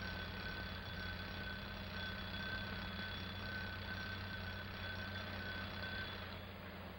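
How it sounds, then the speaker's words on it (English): A watch alarm serving as an alarm clock rings in a steady, continuous high-pitched tone, faint and unbroken for several seconds over a low hum. "That's my little old alarm clock."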